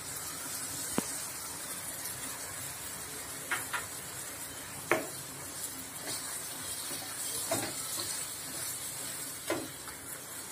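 Grated coconut, chana dal and sugar syrup sautéed together in a pan for Tamil suliam, a steady soft sizzle and hiss with occasional light scraping and clinks of a stirring spoon, close and alone.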